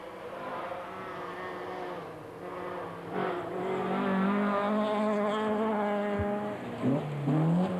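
Audi Quattro rally car on an RAC Rally stage in 1984, its engine droning steadily and rising in pitch as it accelerates past, with a brief sharper burst near the end and no voices.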